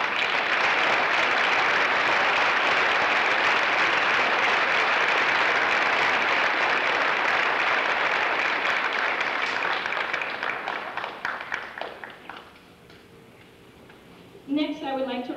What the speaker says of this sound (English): And let's give all of our ensemble members a round of applause.